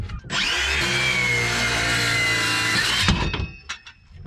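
A saw rips two 1-inch strips from a plastic block, a loud steady whining cut of about three seconds that stops abruptly, followed by quieter clattering handling sounds.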